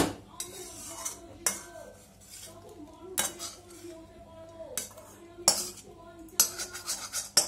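Cooked semolina upma being scooped and served out of a pan, with close, sharp clinks and scrapes of a metal spoon against the pan coming in separate bursts between quiet gaps.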